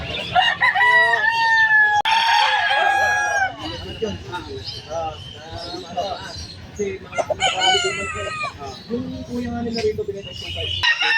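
Roosters crow repeatedly at a busy pet market in Malabon, close and loud, with clucking and other fowl around and people talking throughout.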